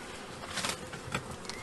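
Honeybees at an open hive during frame fitting after a spring swarm, a faint continuous buzzing hum with brief louder swells as bees fly close.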